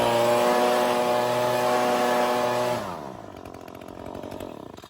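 A lawn mower engine runs at a steady high drone while mowing a yard, then winds down and idles roughly to a lower, quieter sputter.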